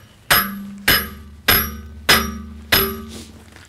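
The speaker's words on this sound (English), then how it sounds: "all you do is just hammer down here to slide the T-fitting along the pipe" Five evenly spaced hammer blows on a metal T-fitting, driving it along a pipe on a bandsaw mill, each leaving a brief metallic ring before the next strike.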